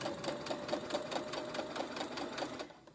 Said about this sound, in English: I'm just going to keep sewing until I get down to my next pin